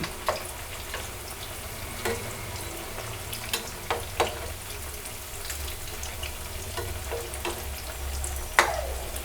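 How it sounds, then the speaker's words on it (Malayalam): Jackfruit seed vadas fry in hot oil with a constant bubbling sizzle, broken by several sharp clinks and scrapes as they are turned over in the pan, with no voices. "വട മൂത്തിട്ടുണ്ട്. നമുക്കൊന്ന് തിരിച്ചിട്ട് കൊടുക്കാം."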